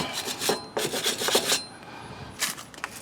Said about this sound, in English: Just clean it up real good with the wire brush.